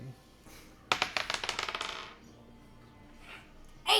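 Dice roll and clatter across a table during a Dungeons and Dragons game, a quick run of rattling clicks lasting about a second, with quiet voices around it.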